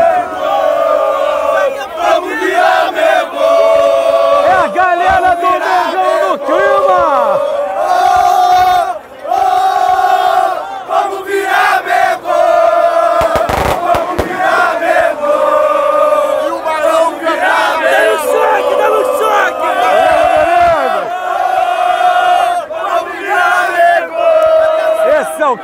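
Flamengo supporters outside the Maracanã stadium chant loudly in unison, a rhythmic massed singing with rising and falling phrases, close and powerful, continuing for the whole stretch.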